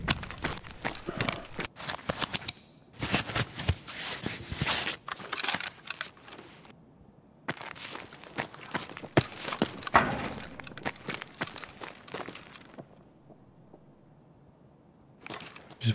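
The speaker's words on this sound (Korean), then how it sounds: "발소리 들었는데?" Running footsteps in the shooter game Escape from Tarkov, a quick patter of steps with dense bursts and short silent gaps, fairly close and loud, with no talk over them.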